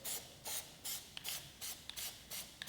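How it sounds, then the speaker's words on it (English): Spray can of Plasti Dip hissing in short repeated bursts as a light mist, about seven quick sprays in a steady rhythm, close but fairly quiet. "I'm spraying a light mist"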